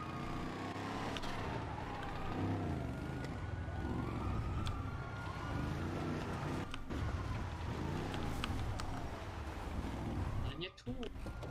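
A video-game police car siren wails up and down over a continuous engine roar during a chase, with a couple of sharp knocks near the end.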